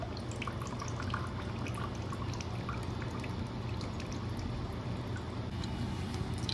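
Coconut water pours steadily out of a freshly cut coconut, a faint, continuous trickling splash with small drips over low background hum.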